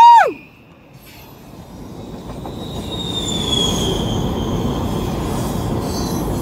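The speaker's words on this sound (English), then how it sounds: "And there's the fucking train too." Train passing, heard from inside a car on a winding road, with a high falling wheel squeal at the start followed by a growing steady rumble of rolling railcars and faint high screeches.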